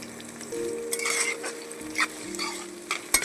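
Onions fry in a pan with cloves, giving a soft sizzle broken by scraping stirs and a few sharp utensil clicks against the pan, near and fairly quiet, with no speech.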